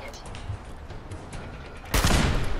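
Gunfire in Fallout 4: Far Harbor, muffled background noise first, then a sudden loud burst of shots near the end, close and sharp.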